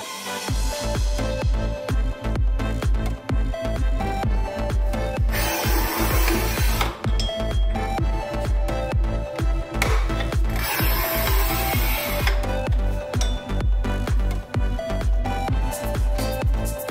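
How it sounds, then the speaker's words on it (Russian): Large-format tile being cut at 45 degrees with a saw, a loud rasping grind repeated in short strokes, with two longer harsher bursts of cutting, close and without talk. "Распускаем плитку в нужный нам размер, затем пилим под 45 градусов."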